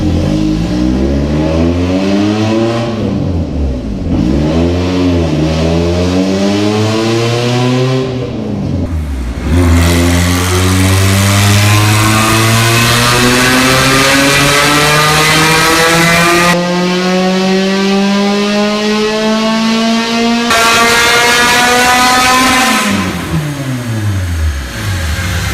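Supercharged Honda D16Y8 engine at 9 psi with a race cam, revving hard on a dyno: loud, continuous climbing engine whine rising in pitch through long pulls, dropping briefly between runs, close and alone without talk.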